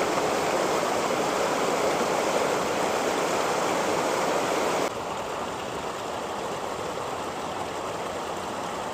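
River water rushes steadily through the outlet of a fast-flowing pomfret fish pond near Bogor on its way back to the Ciampea River. The constant, loud, hissing flow dips slightly in level partway through.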